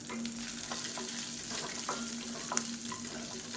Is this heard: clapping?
no